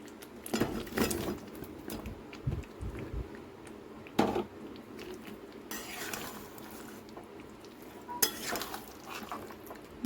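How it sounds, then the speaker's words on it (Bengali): A spoon stirs fried jackfruit and potatoes into cooked spices in a pan, with scraping clanks against the metal and a soft sizzle between the strokes, close and without talk. "দিয়ে ভালো করে মশলাগুলি মিশিয়ে নেব"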